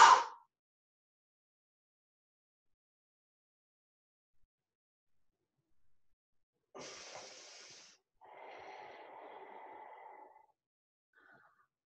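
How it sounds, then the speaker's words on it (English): Uddiyana yoga breathing: a quick breath at the very start, then a long silence before a breathy, hissing exhalation followed by a softer, tonal sighing outflow of air, close and quiet, with no talking. "Exhale, Uddiyana."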